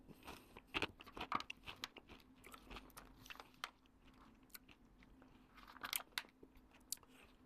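Crunching and chewing of a sweet, light cashew-and-peanut snack, close and crisp, with irregular bursts of crackly bites and softer chewing between them and no talk.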